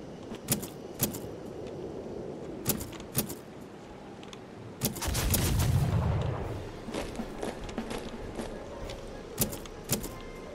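Cannon fire in the Age of Rifles tactical game Fire & Maneuver: a string of sharp booming reports at irregular intervals, with one heavier rumbling blast near the middle, over a steady background of battle ambience.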